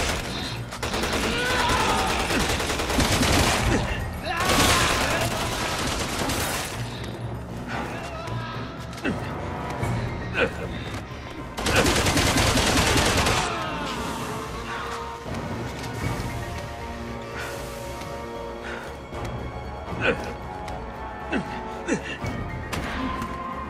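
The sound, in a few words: gunfire in the video game Resident Evil 6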